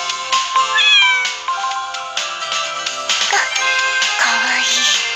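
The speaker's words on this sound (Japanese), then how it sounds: "今あっちの方から猫の鳴き声がしたような。" A cat meows in the BanG Dream rhythm game, loud and near, a few bright, drawn-out mews layered over light chiming game music.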